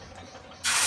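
Dosa batter hitting a hot oiled tawa, a sudden loud sizzling hiss that bursts in near the end of a short, quiet stretch.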